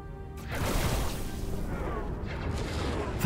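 Space-battle weapons fire in the strategy game Star Trek Infinite: a dull boom opens a rumbling, crackling barrage that rolls on steadily for a few seconds.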